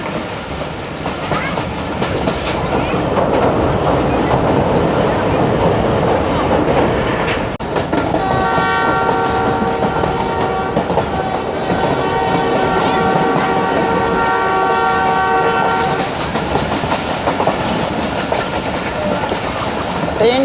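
Riding aboard a train on a scenic route through Quetta, a steady loud rumble and clatter of wheels on rails fills the carriage, with a sustained horn-like tone partway through.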